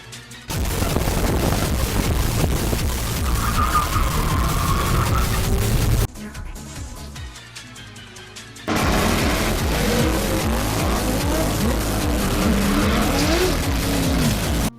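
A GTST car drifting sideways at a car event, its engine roaring loud and close with screeching, skidding tires, dropping to a brief quieter lull before surging back at full volume.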